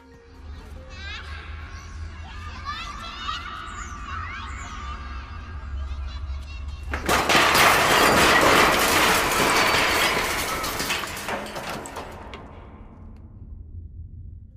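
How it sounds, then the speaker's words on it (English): Disturbing tape recording from the video game Garten of Banban: a murmur of children's screams and cries builds, then a loud burst of crashing, breaking machinery noise takes over midway and slowly fades. "The sounds of children screaming and machinery breaking are heard."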